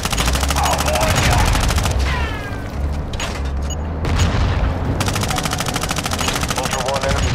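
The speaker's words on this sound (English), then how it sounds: "You are taking effective fire." Sustained automatic gunfire and explosions in Call of Duty MW2 DMZ, a loud, dense, continuous burst of rapid shots that barely lets up, with game voices and mechanical clatter mixed in.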